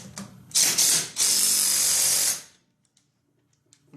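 Dewalt cordless 3/8-inch impact driver tightening lug nuts: two close, loud bursts of rapid hammering, the second lasting about a second, then stopping abruptly into near silence.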